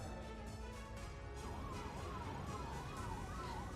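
Two ambulance sirens wail at a busy Ghazipur border protest site, their rising-and-falling tones sweeping repeatedly over steady traffic and crowd noise, fairly close and loud in the second half.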